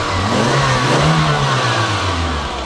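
A cheap, worn Toyota car engine runs close by and revs up, a loud steady mid-pitched drone that rises in pitch and then settles, with no talking.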